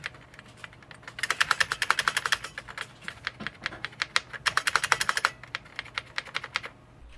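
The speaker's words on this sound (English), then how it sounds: "None of these keys click, and the majority of them don't even activate." Typing on a worn, terminal-style IBM Model M keyboard with cheap rivets, many keys no longer clicking or activating; two bursts of rapid, fairly close keystrokes separated by a brief pause, with no voices.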